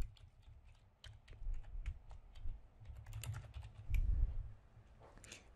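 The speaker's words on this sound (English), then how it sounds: "I can start typing a message to her here" Rapid, irregular clicking of keys on a computer keyboard, close and fairly quiet, with short pauses between bursts.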